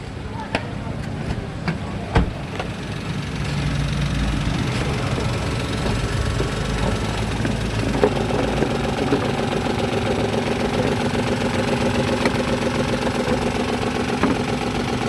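A Toyota Wigo engine idles roughly with a misfire, an uneven, shaking rhythm and occasional knocks, steady and close throughout.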